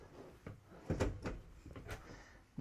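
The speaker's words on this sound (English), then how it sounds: "Got a couple of full pull-out drawers here. All of them soft close, of course" Soft-close pull-out drawers in a Newmar Dutch Star 4020 motorhome slide and settle with several quiet, close thumps and rolling glides over about two seconds.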